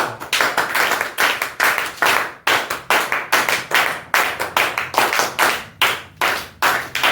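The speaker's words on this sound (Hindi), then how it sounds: "ताली आवाज आना चाहिए ऐसा" A group claps hands together in a repeated, rhythmic pattern, each clap sharp and close, with brief pauses between bursts throughout.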